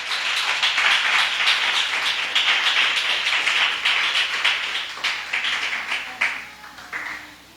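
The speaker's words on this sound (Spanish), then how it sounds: "Le damos un aplauso al Señor." A church congregation applauding during a worship service, loud sustained clapping from many hands close by that thins out and fades toward the end, with no talk over it.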